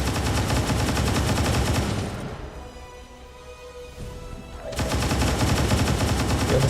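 Rapid bursts of gunfire from the XCOM 2 video game, loud and dense at the start and end with a quieter lull in between.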